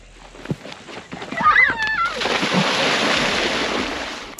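People jumping off a boat into open water, with loud broadband splashing and churning that swells after the first two seconds and continues steadily, preceded by brief voices and a few squeaky tones.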